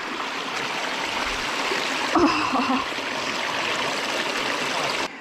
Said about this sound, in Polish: Muszę ją sobie ochłodzić, więc wkładam do strumyka łapę.